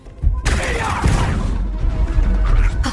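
An explosion goes off in the sci-fi action game Star Wars Outlaws, a sudden loud blast followed by a crackling, rumbling wash of debris that lingers for a few seconds.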